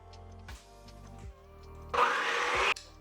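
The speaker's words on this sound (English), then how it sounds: "I'm going to crack 1 egg in at a time, and I'm going to mix it in between each" An electric mixer beats eggs into petit four batter one at a time, with brief whirring bursts followed by a longer, louder run of steady buzzing, close by and alone.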